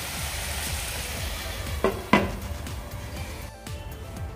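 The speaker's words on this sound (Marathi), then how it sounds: "आता यावर झाकण ठेवून मी 7-8 मिनिटं असंच शिजू देते." Cabbage and chana dal cook under a lid in a pan, giving a low, steady simmering sizzle with two brief metallic clinks partway through.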